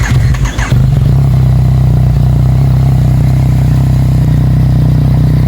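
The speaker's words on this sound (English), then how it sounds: "Now we are going to listen to the exhaust and all." A Yamaha MT-09 motorcycle's exhaust runs loud and close at a steady idle after a brief clattering start, with a deep, even rumble and no voices.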